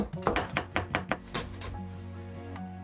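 Knife rapidly julienning two green chili peppers on a cutting board, a quick run of crisp, evenly spaced chopping taps up close, then a quieter tail of faint kitchen hum.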